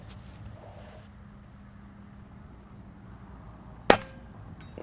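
A single sharp air rifle shot firing a slug cracks once over steady outdoor background noise, near and fairly loud, with no talking.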